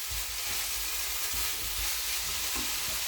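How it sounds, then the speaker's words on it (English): A spoon stirs spicy lamb dhal curry in a pan over a steady sizzling hiss, with soft repeated scraping strokes close by. "Stir that in."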